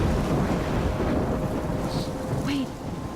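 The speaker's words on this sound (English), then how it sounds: "I'm trapped in a storm?" Storm with thunder in the video game Life is Strange: loud continuous rain and wind fill the scene, with deep rumbling thunder rolling underneath and brief brighter crackles near the end.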